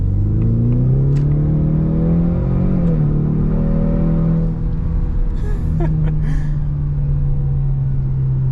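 A 2024 Ford Mustang EcoBoost Premium in track mode pulls hard under acceleration, its turbo four-cylinder droning loud and close with rising engine tones that drop at a gearshift before climbing again.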